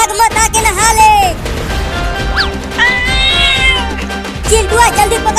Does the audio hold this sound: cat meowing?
yes